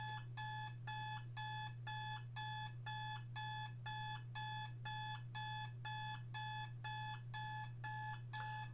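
A phone in an escape room game beeps in a fast, regular electronic pattern, repeated pulses over a low constant hum, fairly faint with no talking.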